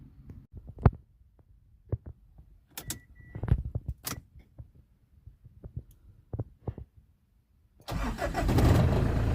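A military Mazda BT-50 pickup, held together with makeshift repairs, cranks with scattered clicks and thumps, then its engine catches and roars into a loud, steady idle close by.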